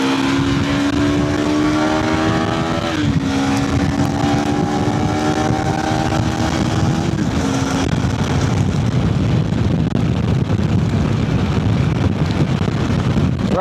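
KTM 390 Adventure motorcycle engine pulling at full throttle, heard as a loud rising drone that drops as the gears shift, under heavy wind roar that takes over toward the end.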